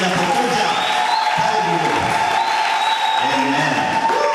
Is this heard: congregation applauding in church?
yes